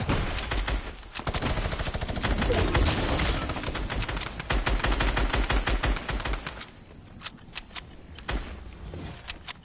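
Rapid, relentless minigun fire in the Fortnite video game, a dense stream of loud shots for several seconds that breaks into scattered bursts near the end.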